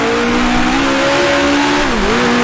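A 1966 Formula One race car engine in the Grand Prix Legends racing game at Monaco, loud and close, revving steadily upward, then dipping briefly at a gear change before climbing again.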